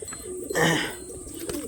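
Pigeons cooing as they feed, a single soft, throaty, rolling coo rising and fading near the middle, with faint background sounds and no talk.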